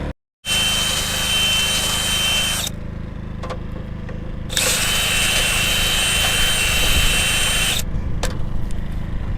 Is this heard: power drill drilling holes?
yes